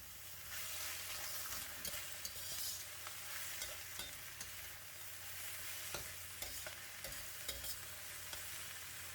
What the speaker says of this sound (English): Give it a stir for another 10 to 15 seconds to incorporate all the ingredients